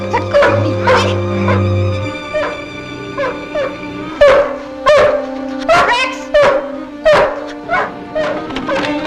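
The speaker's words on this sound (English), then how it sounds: "We heard Rex barking all the way outside" Rex, a dog, gives repeated sharp barks and yips in a steady, fairly loud series, with a whimpering stretch early on over a music-like tonal background.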